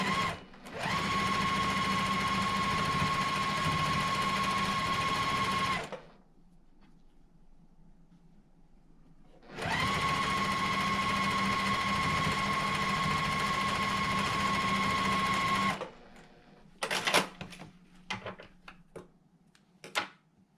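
A sewing machine stitching quilt leaf units together runs in two steady, loud, close whirring stretches of about six seconds each, separated by a quiet pause, then gives way to faint fabric handling and clicks.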